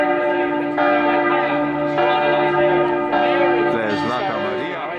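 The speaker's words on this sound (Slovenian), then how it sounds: "Vsi čakajo pa drugo zvonjenje." Church bells ring in Munich, loud and close, with repeated strikes layering rich sustained overtones that overlap and swell across the whole stretch.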